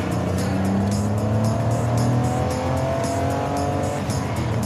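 A classic BMW inline six-cylinder engine pulls steadily on the road, its tone rising and gliding as revs build and settle, a loud, continuous, close-up drone with no voices.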